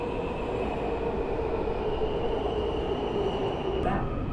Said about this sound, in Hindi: ऐसी होती है यहाँ की मेट्रो।